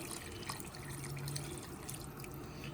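A steady, soft stream of water trickling and splashing into a cooking pot for chicken sauce piquant, faint and continuous with no talking.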